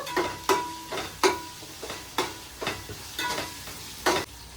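Chicken fries in a pan for a coconut rice dish while being stirred, with repeated scraping strokes about once a second over a steady close sizzle.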